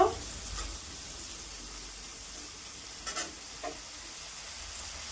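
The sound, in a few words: grapes frying and being stirred in a pan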